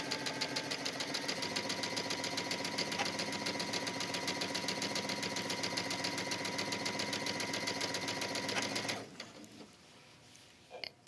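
A sewing machine stitches along the edge of a wrap dress hem with contrasting thread, a steady rapid mechanical whir and clatter running continuously for about nine seconds before it stops and leaves quiet handling sounds.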